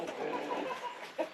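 Chickens on a smallholding in Wales cluck softly as they come out, a close, busy scatter of short calls with one louder cluck near the end.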